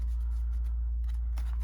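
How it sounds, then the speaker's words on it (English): A deck of trading cards for a Despia deck is shuffled by hand, soft riffling and flicking close up over a steady low hum, ending in a sharper snap of cards. "Get a little shuffle here."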